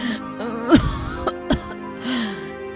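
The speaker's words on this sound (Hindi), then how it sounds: "ये कैसी खांसी है?" Cartoon woman Archana coughing in a courtyard, a sharp cough near the middle followed by a second shorter cough, with strained vocal sounds between, close and fairly loud.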